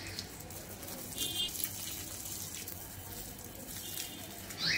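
Water splashes and hisses steadily while plants are watered outdoors, a soft, even gush that swells slightly near the end, fairly faint and close.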